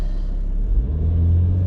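A 2014 BMW 335d xDrive Touring diesel with a Stage 1 tune rumbles low and heavy close by, its deep drone swelling and revving up steadily as it launches from a standstill.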